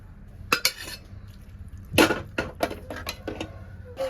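A spoon stirs beef curry in a metal cooking pot, giving several sharp clanks and scrapes against the rim at uneven intervals, close and fairly loud over a quiet background.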